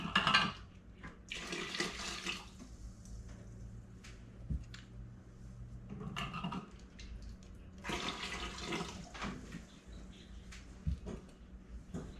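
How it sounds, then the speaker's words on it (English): Water from canning jars splashes and pours in several bursts, gushing into a sink or basin nearby, with pauses and a few clinks between pours. "you just take the jars and pour the water out"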